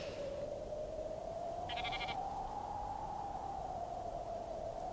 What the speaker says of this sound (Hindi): इसीलिए कहता हूं तुम अपनी ये भेड़ बकरियां संभाल के रखो।